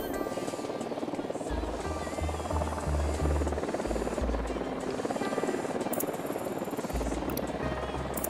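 A helicopter approaches in the Ghost Recon Wildlands video game, a loud continuous rotor drone with a low throbbing pulse that swells and holds steady throughout, heard alone with no talk over it.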